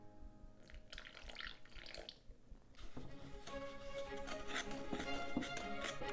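Homemade kinetic sand with a little water and a teaspoon of laundry detergent being stirred and mixed by hand, giving soft, wet squishing and scraping that grows steadier and a bit louder, fairly faint and close.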